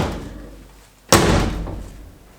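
A heavy door slams shut once with a loud, close thud midway, and the sound dies away afterward against quiet background noise.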